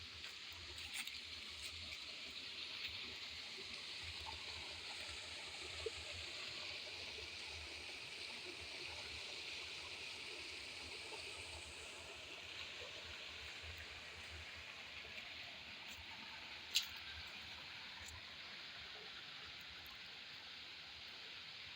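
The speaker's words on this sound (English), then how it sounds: "Okay, these are the waterfalls, huh?" A waterfall in Karura forest rushes in a steady, broad hiss of falling water, heard at moderate distance and fairly faint, continuous throughout with a few small knocks and no talking.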